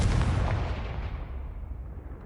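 A Confringo blasting spell cast in the Hogwarts video game, a single loud booming blast with a long rumbling decay that fades over about two seconds.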